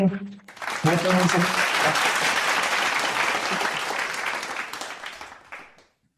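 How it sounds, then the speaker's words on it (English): Warm applause from an audience welcoming President Masaichi Hori swells right after a man's brief spoken line and holds strong for several seconds, then tapers away to silence. "once again, let's give a big round of applause"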